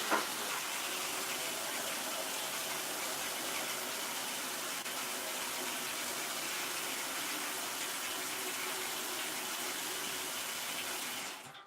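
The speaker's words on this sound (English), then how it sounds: "wash out my pan so I can add my distilled water into it" Tap water running while a pan is washed out at a craft table, a steady, moderately quiet gushing stream that continues unbroken for the whole stretch, then cuts off at the end.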